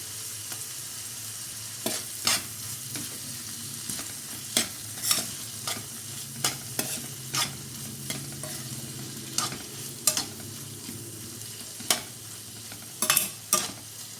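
Ginger garlic paste and spinach filling frying in a pan, a steady loud sizzle with regular sharp clinks of a spoon stirring against the pan, no voices.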